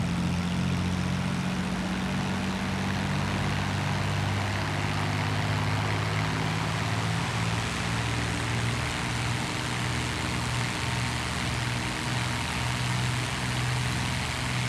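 de Havilland Mosquito MkIV piston engines running up in a flight simulator, a loud steady propeller drone with a low throbbing hum, unbroken and close.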